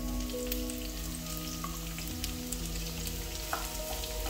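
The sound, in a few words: onions frying in hot cooking oil in pan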